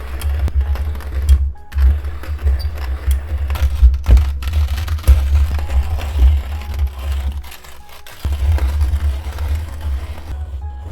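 Small machine grinding a tiramisu powder mix with milk powder, a close, rattly mechanical whir with gear-like clicking, briefly stopping and restarting a couple of times.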